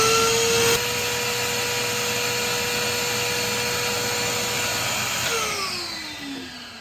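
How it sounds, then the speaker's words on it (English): A wet vacuum runs with a loud, steady whine while pulling standing water from an air-conditioner drain line, then its pitch drops as the motor begins to wind down near the end. "I'm gonna remove standing water from this part of the drain line with wet vacuum"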